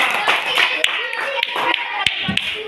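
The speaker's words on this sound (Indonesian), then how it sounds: "Ya, kasih tepuk tangan untuk kelompoknya." A classroom of students claps for a group, a steady patter of many hands lasting the full few seconds with no pauses.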